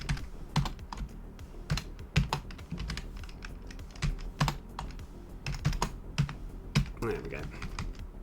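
Fast typing on a computer keyboard clatters in quick, irregular bursts of crisp key clicks, close and prominent, with a voice occasionally under the tapping.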